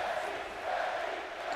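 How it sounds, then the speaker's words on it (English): A wrestling arena crowd in the video game WWE 2K20 cheers for Becky Lynch, producing a steady, distant roar of many voices that stays even and continuous throughout. "Fans are cheering for Becky Lynch,"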